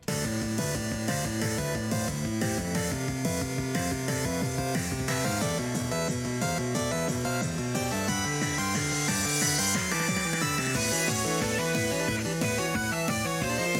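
Chiptune-style remix of a Pokémon Red/Blue/Yellow trainer battle theme, with a steady drum beat driving under layered synth melodies, loud and continuous throughout.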